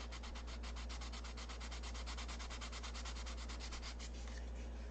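Wood is sanded by hand with fast, even back-and-forth strokes, a steady close rhythmic scratching that slows slightly near the end.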